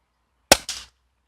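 A single FTP 900 air rifle shot at a cardboard dot target, a sharp close crack followed by a short second snap of the pellet striking, with silence around it.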